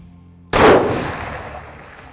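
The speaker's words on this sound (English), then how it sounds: "I'm gonna shoot one more" A single loud, close rifle shot cracks out while hunting whitetails in South Texas, followed by a long fading echo across open country after a quiet moment.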